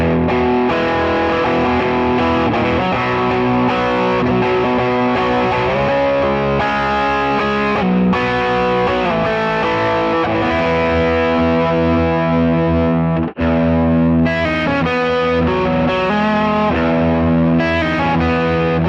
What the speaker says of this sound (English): I have the green side of the Protein. That's what I'm using as kind of my stage 2 drive.